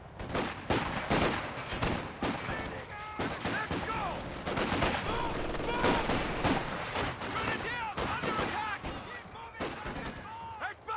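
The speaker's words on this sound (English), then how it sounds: "MG is set up now." Bursts of machine gun fire crackle through a Company of Heroes 2 battle, with repeated sharp volleys and scattered shots close by, while game voices shout over the combat.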